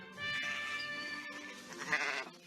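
Sheep grazing beneath wind turbines in the Netherlands bleat in one long, wavering call, fairly faint, with a brief break partway through.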